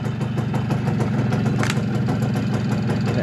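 A Yamaha FS1E moped engine idling after a choked start, a steady close two-stroke putter with a fast even pulse and no talk over it.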